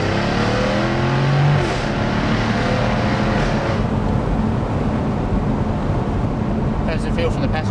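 Jaguar F-type R V8 in race mode with sport settings and manual gearbox, engine roaring loudly under steady acceleration, heard from inside the cabin with people talking over it.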